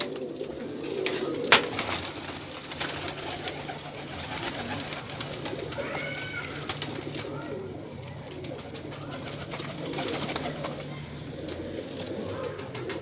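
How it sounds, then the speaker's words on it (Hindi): Pigeons coo softly and continuously in a loft, low rolling calls overlapping one another with occasional wing flutters and faint background murmur. "ये मेरे कमगर कबूतर"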